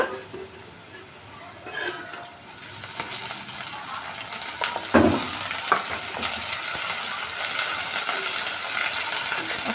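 Ginger paste frying in a pan for upma, a close steady sizzle that thickens over time, broken by a few sharp spoon clinks and scrapes against the pan, no voices.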